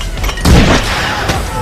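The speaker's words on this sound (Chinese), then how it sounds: "两发炮弹射出，武装分子的迫击炮终于被干掉" A small cannon firing shells in a war film battle against mortar positions, heard as a loud, sudden boom followed by a second, weaker report and a lingering rumble.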